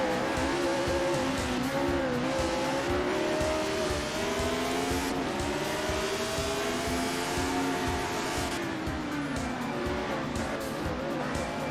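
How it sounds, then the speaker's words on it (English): A 1975 Hesketh Formula One car in the Assetto Corsa racing game gives a loud, continuous engine roar that rises and falls as it shifts, with tire noise running underneath throughout. "I couldn't hear my own gears over the sound of the Hesketh."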